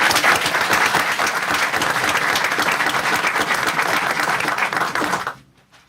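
Loud, dense applause from a crowd at a school board meeting continues for about five seconds before quickly dying away to silence.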